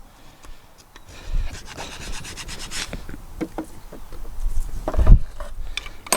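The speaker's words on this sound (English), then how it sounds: "I'll get a bit of a scrape around the back of there, just in case there's any crud hanging on to that" A pry bar scrapes crud off the rockshaft housing of a David Brown 990 tractor, making close, irregular rasping and rubbing strokes with scattered metallic scuffs, louder toward the end.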